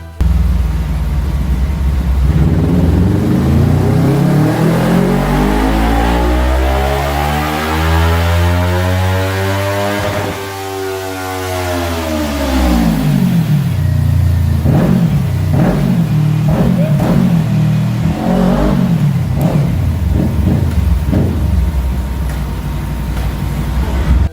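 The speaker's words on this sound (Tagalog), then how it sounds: "Ganito ang tunog ng Kawasaki Ninja 400." A Kawasaki Ninja 400 motorcycle engine revs hard, pitch sweeping up then falling, followed by several sharp throttle blips, loud and close with no talking.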